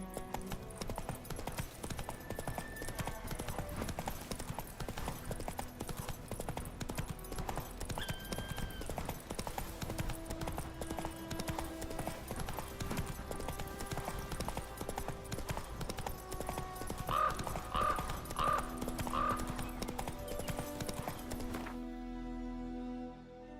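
Geralt's horse Roach galloping in The Witcher 3, a steady clip-clop of hooves running through the clip under dense game music, with a brief whinny, ending abruptly near the close.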